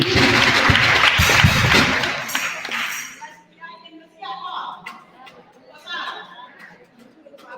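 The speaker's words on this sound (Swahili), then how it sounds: "Pigeni makofi." Audience clapping at a community dialogue forum, loud dense applause for about three seconds that stops abruptly, followed by quieter room chatter, clinks and murmuring voices.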